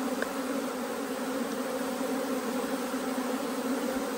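Honeybees hum steadily around an opened hive frame, a close, continuous buzzing drone with no voices, moderately quiet and unbroken.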